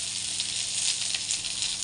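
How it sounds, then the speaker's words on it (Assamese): Onions sizzling steadily in hot oil in a pan, a close, continuous crackling fry with no talk. "সেয়া পিঁয়াজ ভাজি আছোঁ ধুনীয়াকৈ"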